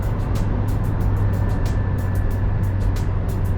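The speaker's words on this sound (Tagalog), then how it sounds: "So kung nasa expressway, definitely medyo shouty ang engine." A 2020 Suzuki Jimny engine drones at 3,000 RPM while cruising at 100 km/h on an expressway at night. The loud, steady cabin roar mixes with road noise, and no one speaks.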